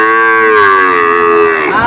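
A cow at a cattle market gives one long, loud, close moo lasting almost two seconds, falling slightly in pitch toward the end, with no talk over it.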